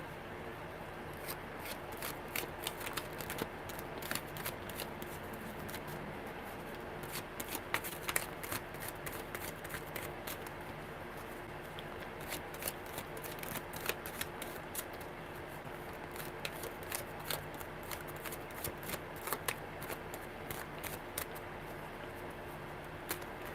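Tarot cards being shuffled by hand, a steady crisp riffling and pattering that runs throughout at low volume, with no voices over it.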